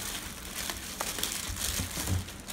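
A plastic bag crinkles and rustles as a 12V 100Ah lithium battery is pulled out of it, close and brief with no voices.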